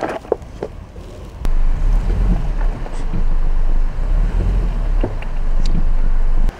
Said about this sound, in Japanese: それにしてもこの川の音めちゃくちゃ癒されます